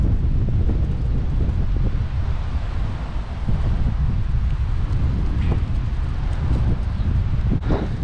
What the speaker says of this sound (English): oh, it's getting like super windy again.